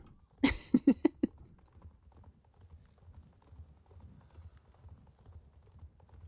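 A short run of sharp horse hoof clops in a video game, about five quick hits, then a quiet murmur of background noise.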